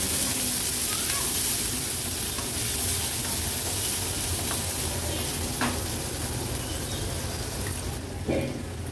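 Finely chopped onion fries in hot oil tempering over a low flame, giving a steady close sizzle and hiss that holds at an even level throughout, with a couple of soft stirring scrapes near the end.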